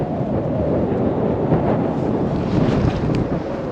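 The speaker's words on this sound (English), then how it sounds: "it's a bit windy" Steady, roaring wind buffets the microphone throughout, a dense rushing noise with no pauses, at a boat mooring on the Norfolk Broads.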